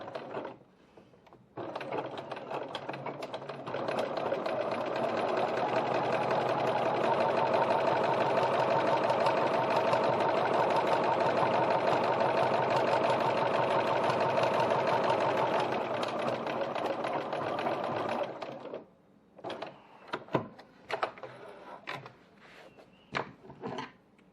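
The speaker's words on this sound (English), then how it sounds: "Now I like to stitch pretty close to the seam" A sewing machine runs steadily for roughly fifteen seconds, stitching a seam on a slip pocket of a bowler-style bag, with a continuous mechanical whir, then stops, leaving a few scattered clicks and handling noises.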